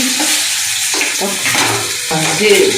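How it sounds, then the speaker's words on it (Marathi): Mustard seeds and cumin spluttering in hot oil, with a loud close sizzle and stirring scrapes in the pan under faint speech. "आता याच्यामध्ये आपण राई टाकली, जिरा"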